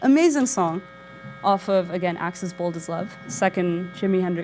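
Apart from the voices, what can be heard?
No everyday noises stand out.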